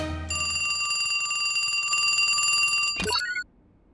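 A cartoon telephone rings with a continuous bright electronic trill for about three seconds, loud and close, then breaks off with a short swishing sound.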